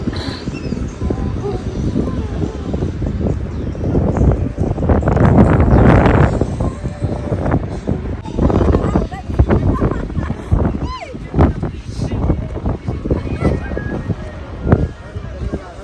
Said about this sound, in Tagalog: Sobrang hangin.